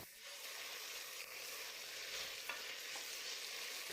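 Beef browning in a pan for beef bourguignon, a soft steady sizzle with light stirring and a few faint scrapes, fairly quiet and without talking.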